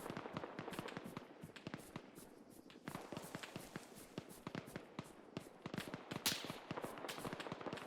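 Incoming rounds landing close by in Arma 3, a dense, rapid crackle of sharp impacts and gunfire cracks rattling continuously at close range with no pause.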